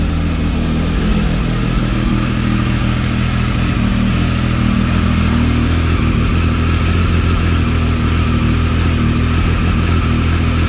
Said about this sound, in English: The engine's also speeding up